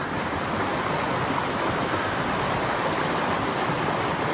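Flooded Robbins Branch Creek rushing past, a loud continuous broadband roar of churning water, close and steady throughout with no voices.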